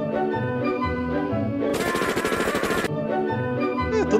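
Rapid bursts of automatic gunfire in Halo 3 over game music, a loud sustained volley in the middle with steady background score before and after.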